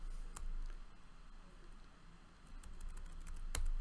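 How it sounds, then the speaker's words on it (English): Light, scattered taps on a computer keyboard in a quiet room during a lecture, sparse clicks with a sharper stroke near the end, faint and close. "Just type Euler"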